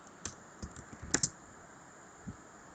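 Keystrokes on a computer keyboard as commands are entered for a Cisco Packet Tracer NAT setup, a few scattered quiet clicks with a short quick burst in the middle, alone without talk.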